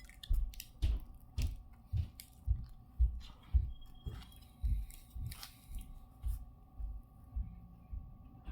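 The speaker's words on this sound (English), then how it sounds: "Let's have a bite." Someone bites into and chews a Subway steak and cheese sandwich with fresh veggies and pickles, up close. Soft squishy chewing repeats at an even pace over a low steady hum, with no talking.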